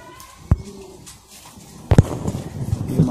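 Soft pigeon coos murmur from a female high flyer pigeon, with two sharp knocks or handling thumps breaking in close by and low shuffling noise between them.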